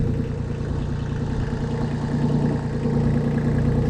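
A Kubota L235DT tractor, which has a cracked transmission case, idles at close range with a steady, even diesel rumble and no talk over it.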